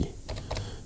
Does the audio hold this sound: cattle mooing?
no